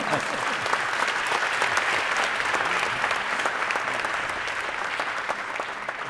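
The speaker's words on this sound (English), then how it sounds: "we're applauding for the guests?" Audience applause for panel guests at a community discussion about Barrie, steady and dense throughout, with a few individual claps standing out.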